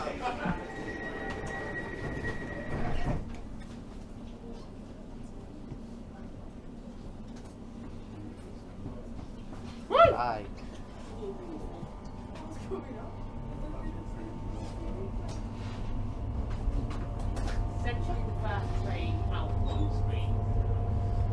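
An Elizabeth line train hums and rumbles steadily through a tunnel at Bond Street station in London, with a brief squeal and clunk partway, while the low rumble grows louder toward the end.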